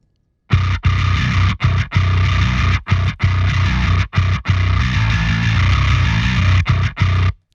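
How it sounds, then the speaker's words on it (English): Heavily distorted bass guitar churns out a choppy riff, thick fuzzy tone broken by brief gaps between phrases, loud and up front. "Let's see what distortion sounds like."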